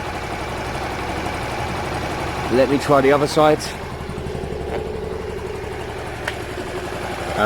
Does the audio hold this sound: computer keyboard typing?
no